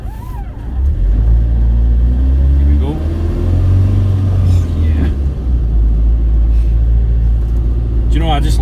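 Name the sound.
Iveco Daily 2.3 engine roaring while driving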